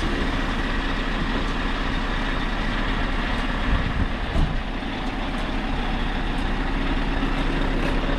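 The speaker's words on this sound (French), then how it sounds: "la cabine quitte la remorque" Scania R580 truck cab pulling away from its trailer, a steady loud diesel drone with deep low rumble throughout and a brief swell near the middle, no voices.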